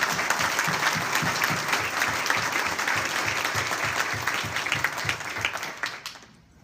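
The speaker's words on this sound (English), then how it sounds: "I'd like to give him a round of applause" A room full of people at a hospital partnership signing ceremony gives a dense, continuous round of applause, steady and close for several seconds before quickly fading out.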